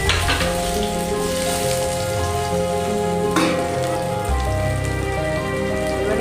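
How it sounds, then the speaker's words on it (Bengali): Potatoes frying in a pan with whole spices, a loud dense continuous sizzle like heavy rain that holds steady and close throughout, with no voices. "এবারে আলুগুলোকে সুন্দর করে ভেজে নেব।"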